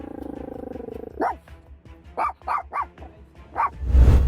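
Police dog at a traffic stop barking in several sharp, loud separate barks after a steady low engine hum, with a final burst of noise at the end.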